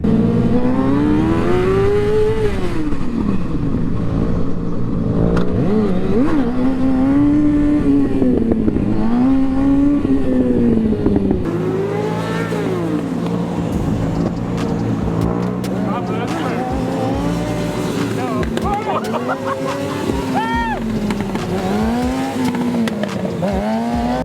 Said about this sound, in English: Do some drifts right here. Do some burnouts.